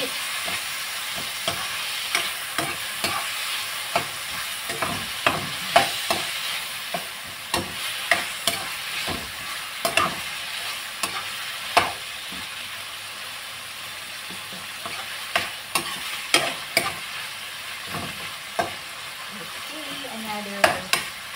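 Meat fries in a pan with a constant hiss and crackle. A spatula scrapes and clacks against the pan at irregular intervals throughout, close and fairly loud.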